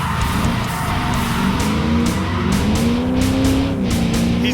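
A Ford Falcon V8 racing a Camry, its engine droning at a steady rising pitch under load, heard close from inside with faint tyre noise, no voices.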